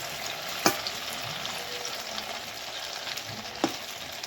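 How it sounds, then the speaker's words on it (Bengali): Sabudana pakoras deep-frying in oil bubble in a constant close sizzle, and two sharp clinks from a utensil break through it, one early and one near the end. "উল্টে পাল্টে আমি লাল লাল করে ভেজে নেব"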